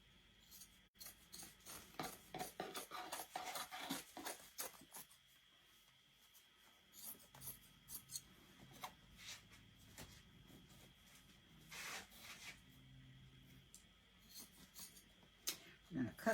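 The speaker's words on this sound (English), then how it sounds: "I'm going to cut some of this excess off" Excess upholstery material is trimmed off with scissors during a stapling project, a series of short, close snipping and rustling sounds in quick bursts with pauses, quiet overall.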